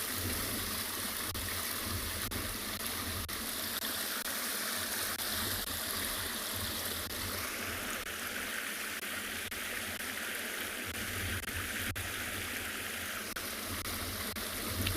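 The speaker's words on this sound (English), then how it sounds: "Running water is definitely one of these sounds that relaxes me." Steady running water rushes continuously at a dam on a sunrise safari drive, a close, even, broadband flow with no voices over it.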